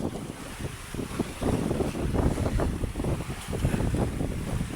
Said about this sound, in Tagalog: Malakas ng hangin dito mga kabiwas.